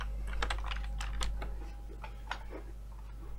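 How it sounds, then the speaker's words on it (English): Fast, rhythmic typing on a computer keyboard, a quick run of close clicking keystrokes over a low steady hum, with no talking. "So let's open up our browser back and type that in."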